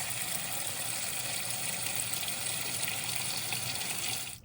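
Smoked neck bones are rinsed under a running tap, a steady close gush of water that cuts off right at the end.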